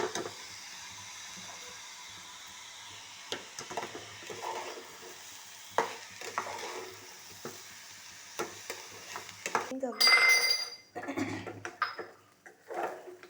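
Soft, continuous crackling and scraping of dry rice grains being stirred in a hot pan, with occasional louder clinks of a utensil against metal.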